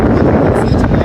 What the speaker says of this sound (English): Albeit a bit windy, but it's fine.